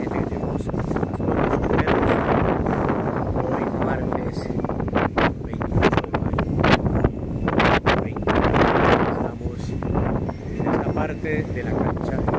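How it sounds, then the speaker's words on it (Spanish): Strong afternoon wind buffets the microphone in loud, rough gusts, with a voice talking underneath the constant blustery rumble. "con este fuerte viento"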